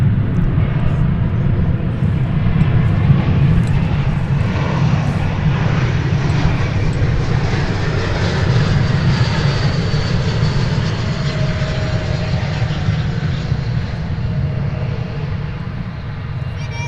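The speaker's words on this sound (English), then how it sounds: "American flight there coming in from Los Cabos, Mexico, flight 2432." An American Airlines jet, flight 2432 from Los Cabos, Mexico, arrives at DFW Airport with a loud, steady engine roar that holds throughout and eases slightly at the end.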